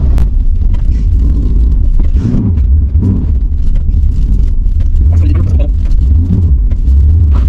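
A BMW E21 rumbles loudly and close as it drives and turns around in a field, the engine note low and steady with uneven bumps. People talk over it throughout.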